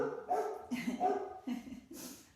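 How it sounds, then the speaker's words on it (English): Dogs barking repeatedly at a moderate distance, four or five sharp barks in an uneven rhythm with no talking. "Pretty loud barks too. They're so mean."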